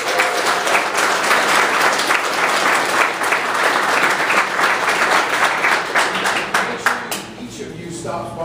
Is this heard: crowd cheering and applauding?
yes